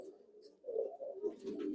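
Show-breeding pigeons in a loft in Baruipur give soft, low cooing calls in a few short bursts, close by, with no talking.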